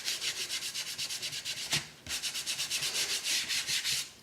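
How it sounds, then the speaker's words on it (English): Fingertips rub material into the surface of a model road in a quick rhythmic series of soft scratchy strokes, close and quiet, with one brief pause partway through. "And again, I'll just rub it in with my fingers."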